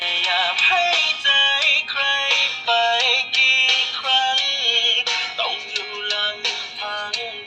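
Music with bright, tonal melodic notes plays through the small built-in speaker of a GOKOOL Ultra3 smartwatch, thin and close, with short pauses between phrases and no voices.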